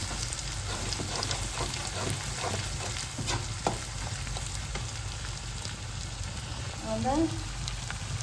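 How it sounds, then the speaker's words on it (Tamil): Masala of chili, turmeric, cumin and coriander powders sizzling and frying steadily in hot oil for a jackfruit curry, with occasional stirring scrapes and a brief word spoken near the end. "4 மசாலா போட்டாச்சு. நல்லா வதங்க எண்ணெயில்"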